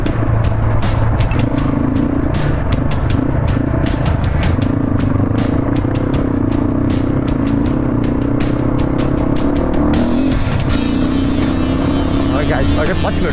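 A motorcycle rides off-road on a rough mountain track, its engine droning loud and steady close by with shifts in pitch, while wind buffets and a rider talks over it.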